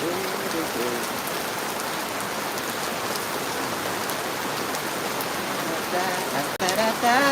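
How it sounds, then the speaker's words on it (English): Heavy rain pouring steadily on surfaces, a dense continuous hiss with faint voices murmuring underneath and a slight swell at the end. "Damn, it's raining hard."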